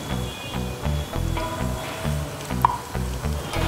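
Chilli sizzling in hot oil with browning onions for chicken biryani, a steady crackling fry with a rhythmic low thumping of stirring underneath and a brief clink partway through.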